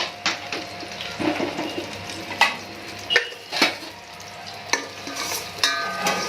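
Cashew nuts frying in a pan, a steady sizzle broken by frequent stirring scrapes and clinks at irregular intervals, close and fairly loud, with no talk.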